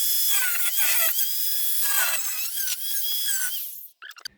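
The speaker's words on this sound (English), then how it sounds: "And cut that out with the grinder." An angle grinder cuts through the steel body panel of a Ford Escort MK1 during crash repair, letting out a loud, close, high-pitched screech for about four seconds before it spins down with a few short clicks.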